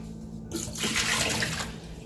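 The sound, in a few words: refrigerator ice and water dispenser pouring water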